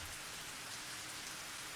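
Steady rain pours down in the Higurashi video game, a dense, even hiss of drops with no break and no voices, soft in level.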